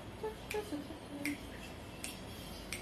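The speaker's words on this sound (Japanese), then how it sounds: "指パッチン" Several sharp finger snaps ring out as isolated crisp clicks, roughly evenly spaced over a few seconds, against a quiet room with faint murmuring voices.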